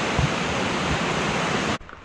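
Manzai waterfall in Wakayama, a multi-tiered river cascade, roars as a steady, loud broadband rush heard from a distance, cutting off abruptly near the end.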